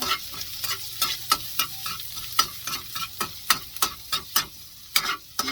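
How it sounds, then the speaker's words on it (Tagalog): Garlic sautéing in a frying pan still oily from fried tofu, with a steady sizzle and repeated sharp scraping stirs at a brisk, fairly regular rhythm, close and clear with no talk. "Ayan, magisa na tayo ng ating bawang."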